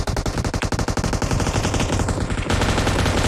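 Loud, rapid bursts of automatic gunfire from the PUBG video game, close and continuous, with fast repeated shots running the whole way through.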